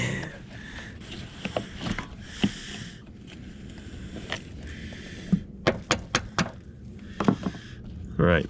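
A hammer driving a chisel against the locking ring of a fuel pump on an old Ford Ranger left abandoned in the woods: a series of sharp metallic strikes, several in quick succession, close and loud over a faint background.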